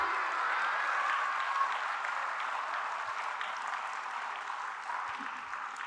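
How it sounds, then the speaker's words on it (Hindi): An audience at a religious sermon by Swasti Bhushan Mata Ji applauds in a sustained, dense wash of clapping that fades slightly over several seconds, with a few faint voices underneath. "बजाइए ताली"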